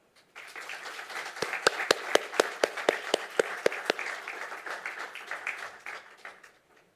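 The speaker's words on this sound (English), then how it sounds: "Will you welcome Professor Schmidt with a warm round of applause" An audience at a European policy conference breaks into applause to welcome Professor Schmidt. A steady wash of clapping carries a few sharper, louder claps near the middle, then thins out toward the end.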